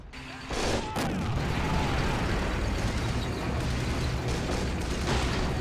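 King Tiger tank cannon firing in a WW2 video game, a sharp blast near the start followed by a long, loud rumble of battle din and echoing gunfire.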